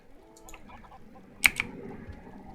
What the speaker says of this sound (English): that sound you keep hearing, that is the eggs that are being laid by the chickens being dispensed onto this slab